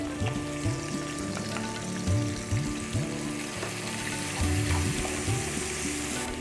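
Garlic, red onion and peppers fry in heating olive oil, a steady close sizzle and crackle with low tonal hum underneath and no voices.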